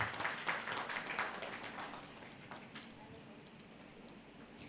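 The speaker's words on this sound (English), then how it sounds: "Can we have a round of applause?" Applause from an audience at an agribusiness hub presentation, a scattered round of clapping that is louder at the start and thins out over a few seconds, heard from the room at moderate distance.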